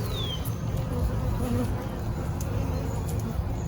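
Honeybees buzzing steadily inside a beehive as it is opened for inspection, a dense, continuous drone close by that holds level throughout with no voices over it.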